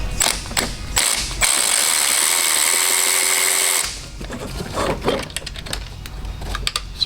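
Ratchet work on a transmission cooler bolt of a BMW F22 with a B58 engine: a steady metallic buzzing run for a few seconds, then scattered clicks and clatter of tools up close, no talking.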